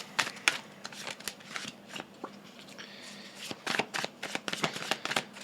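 Tarot cards being shuffled by hand at close range, a run of crisp riffling bursts and soft slaps in uneven rhythm, with quieter handling rustles between them.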